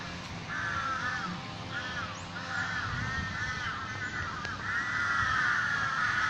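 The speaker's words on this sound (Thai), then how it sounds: "นี่คืออีการ้องเรียกใช่ไหม" Crows cawing repeatedly in Benjakitti Park in Bangkok, a run of harsh calls in short bursts over steady background city hum, fairly close and clear, with no talking.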